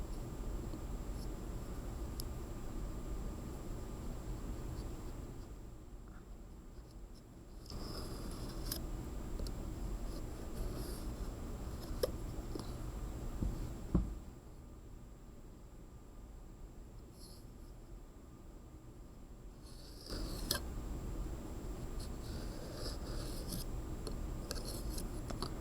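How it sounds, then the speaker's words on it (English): A blade cuts into a clay slab piece for a tiny jar slab box, giving soft, steady scraping and rasping strokes close up, with brief quiet gaps as the piece is turned between cuts. "And I'm going to go ahead and cut right into my piece. Then I'm going to turn it and continue the cut."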